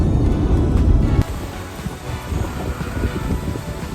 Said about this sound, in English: Very windy at the moment.